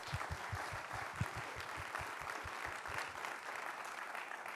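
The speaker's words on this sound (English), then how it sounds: "So a big round of applause, please, for our Oratio team." Conference attendees at ChatbotConf 2017 in Vienna applaud a team, a steady, fairly distant crowd clapping with a rhythmic low thumping underneath, continuous and even throughout.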